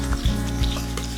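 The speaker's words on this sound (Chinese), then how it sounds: "放入葱段炸至发脆" Scallion pieces fry in hot oil over low heat, a steady close sizzle with soft bubbling pops and a few louder crackles, heard alone.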